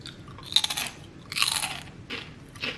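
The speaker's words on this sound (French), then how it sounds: "je vais vous faire de l'ASMR en bruit de bouche croustillant" Crispy food crunched in bursts close to the mouth, four loud crackling bites in an uneven rhythm with quiet pauses between them, no talk.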